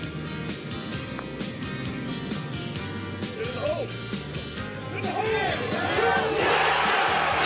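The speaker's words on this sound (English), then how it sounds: "The big crowd's appreciating it" A big golf crowd at the 2007 PGA Championship cheers Tiger Woods' birdie putt, with broad crowd noise swelling and whoops rising toward the end under a commentator's voice.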